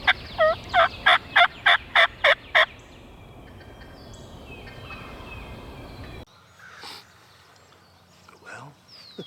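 Wild turkey gobblers gobble from a roost on a ridge in a rapid run of about eight rattling bursts. The calls are fairly clear over outdoor ambience, followed by quieter stretches with faint distant calls.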